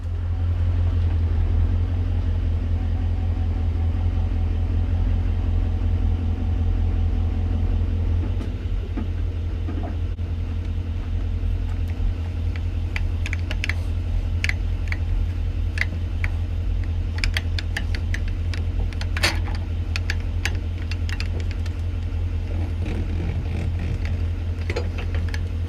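Truck engine rumbling while towing a trailer, a steady low drone that runs throughout, with scattered clicks and knocks from the rig growing busier in the second half.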